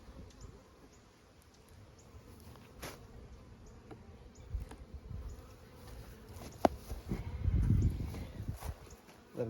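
Bees hum faintly and steadily around an open hive during an inspection, with soft handling bumps and rustles growing louder toward the end.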